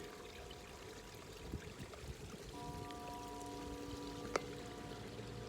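Water flows through a garden stream in February, a faint continuous trickling babble heard from nearby, with a few soft knocks and a short tonal hum in the background.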